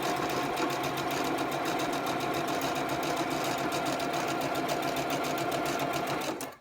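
Sewing machine stitching quarter-inch seams on half-square quilt triangles cut from strips, a steady close rapid whirring hum running continuously before stopping abruptly at the end.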